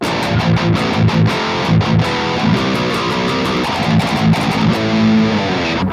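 Heavy, distorted seven-string electric guitar in drop A chugs through low palm-muted metal riffs with rhythmic stops, loud and dense, played alone.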